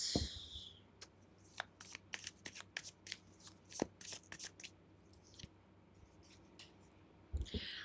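Tarot cards are shuffled and drawn in a quiet room: soft riffling, sharp card snaps and light taps come in irregular bursts, then a short pause before more handling.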